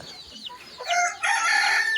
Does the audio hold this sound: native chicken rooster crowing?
yes